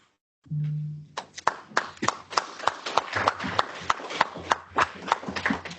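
Audience clapping at a panel discussion on EU competitiveness: a short burst of individual sharp claps, close and distinct, building into scattered applause after a brief voice at the start.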